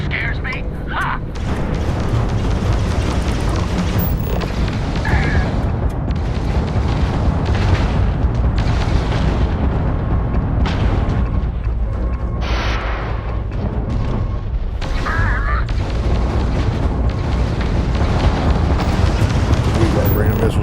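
Missile explosions in the space game Starfield boom and rumble continuously under loud combat noise, with a voice talking over the din.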